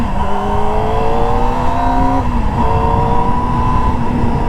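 Kawasaki ZX-25R SE motorcycle engine revving hard, a loud, steady high-pitched scream with rising tones that dip briefly and climb again, continuous throughout with no talking.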